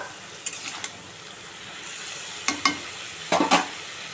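Bottle gourd greens tossed into a frying pan: scattered bursts of sizzling and stirring scrapes, a few brief clusters over a quiet kitchen background.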